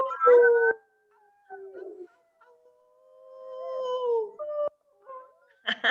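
Several people howl like wolves in imitation during a French-language storytelling of the three little pigs, rising and falling voices in separate bursts with short gaps, a louder cry at the start and more voices joining near the end.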